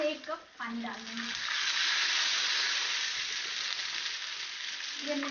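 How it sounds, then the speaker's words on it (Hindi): A cup of water poured into hot tempering oil with mustard seeds, bursting into a loud, steady hiss and sizzle after a brief moment of speech at the start, close and continuous. "इसमें हम 1 कप पानी डाल देंगे।"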